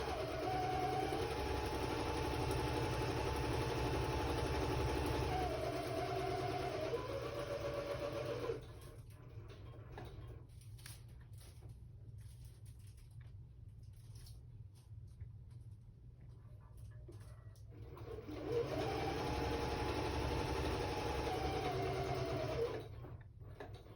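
A sewing machine runs a straight stitch through the pages of a handmade junk journal. A steady, whirring motor hum lasts about eight seconds, then goes quiet with faint handling noise, and a second equally long run follows near the end.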